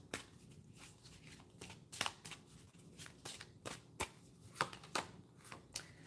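Island Time Wellness Love Oracle cards are shuffled by hand, a series of crisp riffling snaps and soft slides at irregular intervals, close up and quiet, with no voice.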